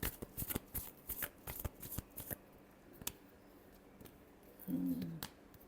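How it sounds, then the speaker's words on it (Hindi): Tarot cards being shuffled by hand in a quiet room, a series of quick crisp riffling bursts in the first half, then a final short shuffle near the end. "last shuffle"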